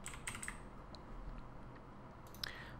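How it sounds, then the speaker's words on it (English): A few sharp keystrokes on a computer keyboard, probably a Ctrl+D shortcut, come in a quick cluster at the start with another brief tap near the end, close and fairly quiet over a steady room hum. "duplicate it by hitting Ctrl D on the keyboard"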